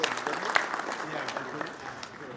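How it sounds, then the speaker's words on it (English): An audience claps steadily for panelists walking on stage at a South Sudan football and oil-industry panel event. The dense, even applause continues throughout, with a voice speaking over it. "Please, let's give a hearty clap to our panelists as they come on stage."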